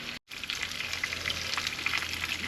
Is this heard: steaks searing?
yes